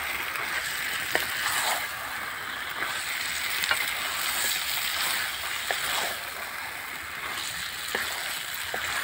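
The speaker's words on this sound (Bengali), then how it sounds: "মাংসটা ভালো করে কষবো।" Spice-coated meat sautéed in a pan for a meat curry gives a steady, close sizzling hiss throughout, broken by occasional sharp clicks and scrapes from stirring, with no voices.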